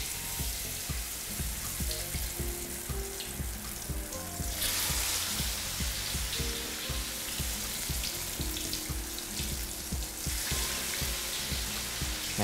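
Battered chicken wings deep-fry in hot oil with a dense, steady crackling sizzle, close and continuous, with occasional bursts of louder spattering.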